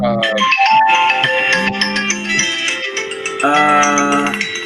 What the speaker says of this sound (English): I got a phone call here, guys.